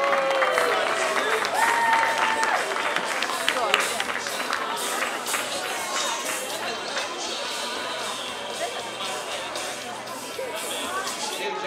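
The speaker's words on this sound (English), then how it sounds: "Big round of applause for Dylan Redfield." A crowd at an outdoor menorah lighting applauds for Dylan Redfield: dense, continuous clapping mixed with cheering and chatter, fairly loud and sustained throughout.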